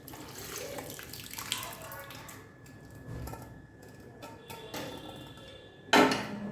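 Dal water poured into an aluminium pot of boiled potatoes and mung dal, a steady close splashing pour with a louder clatter near the end.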